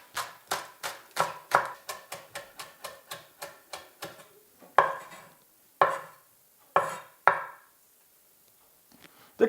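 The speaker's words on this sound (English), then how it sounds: "Spring onions, also finely chop them." A knife finely chops spring onions on a board, starting in a quick even run of crisp taps, then slowing to a few spaced, louder strikes with pauses between them.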